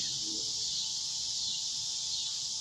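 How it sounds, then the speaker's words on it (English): A katydid sings outdoors as a continuous, even, high-pitched buzzing drone, steady and unbroken at moderate level with no voices over it. "The cicadas singing in the background"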